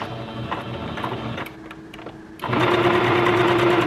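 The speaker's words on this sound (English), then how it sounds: "make sure at the beginning you back stitch and at the end of every piece that you sew that you're back stitching" A sewing machine back stitches a seam on basketball shorts, running in short loud rapid bursts with a brief pause before a steadier, stronger whirring run, close up and with no voices.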